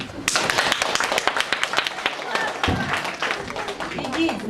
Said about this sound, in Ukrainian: Ну, нумо ну, всі сюди, ваші бурхливі оплески.